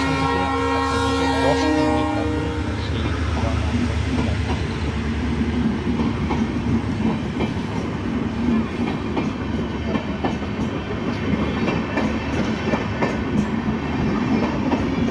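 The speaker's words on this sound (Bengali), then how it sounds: "ট্রেন দাঁড়িয়ে আছে এটা রামতলা স্টেশন" A train stands at Ramtala railway station: a loud horn-like tone opens the clip, then a steady low rumble and clatter of rail cars continues close by throughout.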